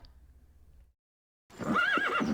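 A horse whinnies once, a loud, close, quavering neigh that follows a faint rumble and a brief silence.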